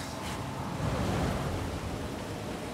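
A waterfall in the video game Darksiders Warmastered rushes as a dense, steady broadband roar, loud and continuous with no voices over it.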